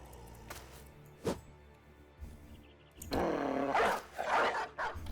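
Dogs in the video game Battle Brothers give a sharp single bark, another short yip, then a longer stretch of snarling growls and rough barks toward the end, loud and close against a quiet backdrop.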